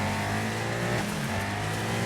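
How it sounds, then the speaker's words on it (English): A loud, steady car engine revs hard in the racing video game DiRT 5, its drone holding throughout at close range with no talk over it. "I hope you can all still hear me over the sound of this engine."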